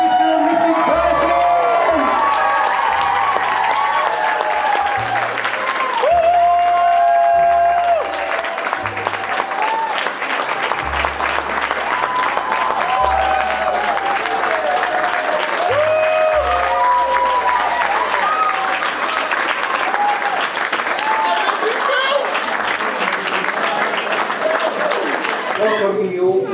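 Wedding guests clap and cheer loudly for the newly married couple, a dense, continuous crowd applause with whoops and shouts running throughout, indoors at a reception.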